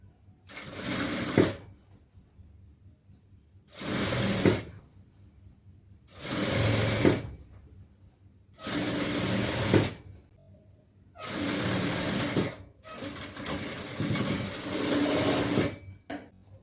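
A sewing machine stitches a folded fabric edge during tailoring work, running in five steady whirring bursts of a second or two each, separated by short quiet pauses, close and loud with no talking.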